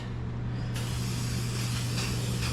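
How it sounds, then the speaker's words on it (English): Aerosol rust-prevention spray hisses steadily onto the parts of a 1941 Chevy, a continuous close broadband spray starting abruptly and running without break over a low background hum. "So let me get all these sprayed down real good."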